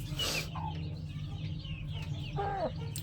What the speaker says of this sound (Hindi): बहुत प्यारी मुर्गी है